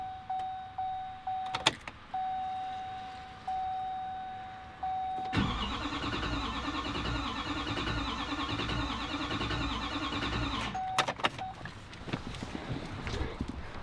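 A Duramax diesel engine making its first start after a head gasket replacement: repeated starter cranking with pauses, then the engine catches and runs loudly for several seconds before shutting down, followed by a few clicks.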